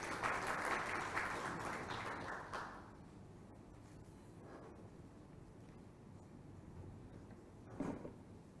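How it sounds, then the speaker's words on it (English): Faint applause from an audience at an agricultural inauguration and planning meeting, quiet clapping for under three seconds that dies away into low room noise, followed by a few soft scattered knocks. "A round of applause to Dr. Malu, please"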